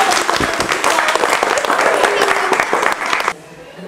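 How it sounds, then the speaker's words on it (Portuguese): Audience applause at a parents-and-children school event, loud and close with dense clapping that runs steadily for about three seconds before cutting off, a voice over it. "Gente, palmas para vocês."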